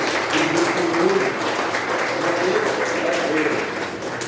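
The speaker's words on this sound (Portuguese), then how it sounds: "Vamos dar um aplauso ao Senhor pela vida dessa irmã" A church congregation at a celebration service applauds, a loud, dense, sustained wash of clapping that holds steady for several seconds. Voices call out faintly beneath it.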